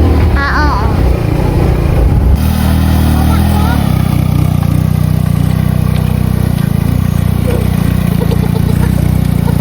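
Motorcycle engine running steadily while riding at night, a continuous mid-low drone throughout with a brief rougher burst near the start, loud and close.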